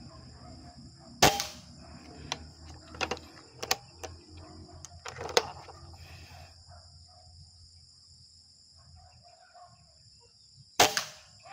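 A Taurus SN24-0070 toy gun firing long range shots outdoors: two sharp snapping shots about ten seconds apart, with scattered lighter clicks between them and steady insect buzz behind, no talk.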